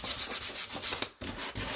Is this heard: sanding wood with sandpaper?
yes